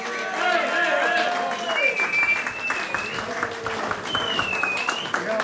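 Crowd applause at an evening celebration for one of the main organizers, sustained clapping throughout with whistles and cheering voices rising over it.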